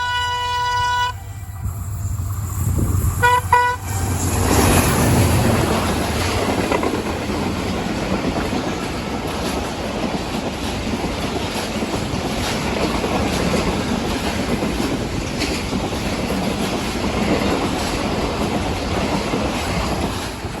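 The Allama Iqbal Express passes Dabheji railway station at speed. A loud horn blast opens, followed by a sustained, close roar of carriages rushing by with rhythmic wheel clatter and no speech.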